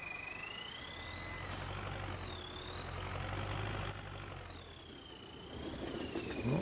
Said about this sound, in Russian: звуки такие же, как у того трактора